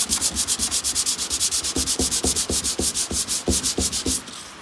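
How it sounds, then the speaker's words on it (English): A Miata body panel gets a light hand sanding before wrapping, with about twenty quick, evenly spaced rasping strokes up close before they stop. "I'm just gonna give it a light sand, get it ready for wrap"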